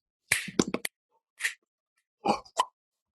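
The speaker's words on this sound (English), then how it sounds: "using digital samples of finger snaps, tongue, lip noises to accompany him" Digital samples of finger snaps and tongue and lip noises, a quirky New York flavored rhythm: a quick cluster of sharp pops and smacks, a lone click, then two more short bursts, close and dry with silence between.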